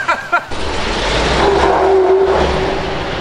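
A truck drives over an Olight Baton 3 flashlight outdoors: a steady, loud vehicle engine rumble runs throughout, with a brief sharp squeal partway through and short vocal outbursts at the start.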